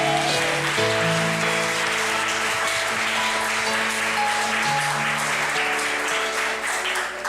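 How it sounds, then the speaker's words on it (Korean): A church congregation applauds during a Sunday worship service, steady dense clapping throughout with sustained organ or keyboard chords underneath. "더 귀하게 박수입니다"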